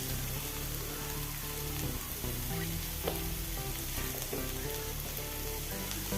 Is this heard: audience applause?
no